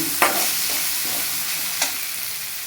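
Chopped tomatoes frying in a pan for tomato rice, a steady soft sizzle broken by a few sharp scrapes of a spoon stirring, close and quiet with no voices.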